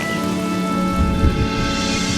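Steady rain with a low rumble of thunder in the video game Honkai: Star Rail, a continuous dense wash that swells briefly in the low end midway through, with no talking.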